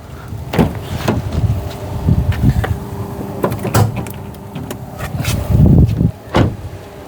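The front hood of a Neta V-II electric car is opened, producing a close run of thumps, clicks and rustling handling noises at an uneven rhythm.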